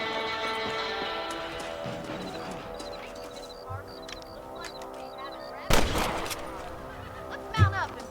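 One sharp, loud gunshot cracks out while rabbits are shot on a ranch in Red Dead Redemption, followed by a smaller thud, over a background of steady tonal hum and horse sounds.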